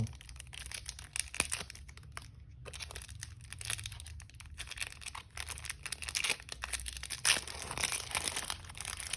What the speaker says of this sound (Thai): โอเคเรามาเปิดแพ็คต่อไปกันเลยครับแพ็คต่อไปของเรา